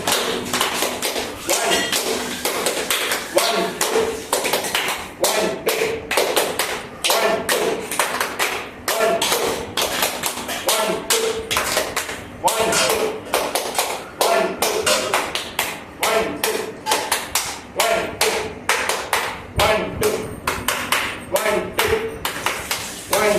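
Rhythmic hand clapping during a yoga session, steady, evenly spaced claps repeating throughout, close and crisp, with an instructor's voice counting along over them.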